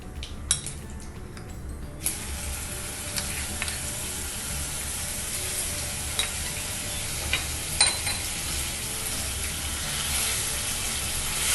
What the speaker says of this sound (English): After cumin seeds, add in your ginger garlic paste.